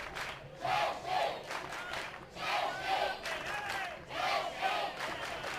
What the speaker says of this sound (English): cheering hard here in the top of the 4th inning with 1 down